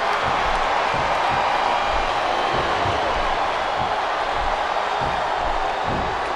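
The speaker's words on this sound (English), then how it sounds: "This capacity crowd is making their opinions known tonight" Capacity crowd at WrestleMania 22 in Smackdown vs RAW 2007 keeps up a dense, steady roar of cheering throughout, loud and unbroken with faint thumps underneath.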